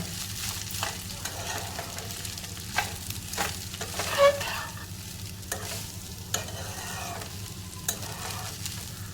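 Leftover cooked rice is stir-fried with spices in a pan, giving a low steady sizzle with repeated spatula scrapes and stirring strokes at an even rhythm.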